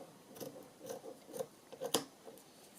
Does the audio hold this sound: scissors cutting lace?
yes